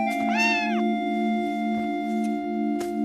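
A small cat gives one clear, rising-then-falling meow near the start, set over a steady sustained tonal drone, followed by a few faint soft sounds.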